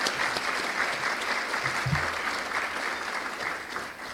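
A luncheon audience applauds its public service honorees, a steady, dense wash of clapping from a large room that holds evenly throughout, with a brief low thump partway through.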